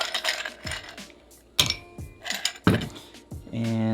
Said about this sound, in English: We're going to add some ice to this.